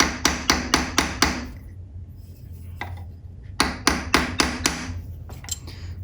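Two bursts of five or six sharp, evenly spaced hammer taps strike a rivet to flare it on a handmade jewelry hinge. The blows are close and ringing, with a single lighter tap and a quiet gap between the bursts.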